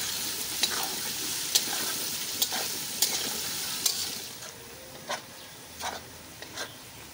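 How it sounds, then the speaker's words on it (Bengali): Onions fry in oil for mutton biryani, a soft, continuous sizzle broken by several crisp spatula scrapes and stirs at irregular intervals. "এবার আমি ওই তেলের মধ্যেই আরও কিছুটা পেঁয়াজ ভেজে তুলে নেব"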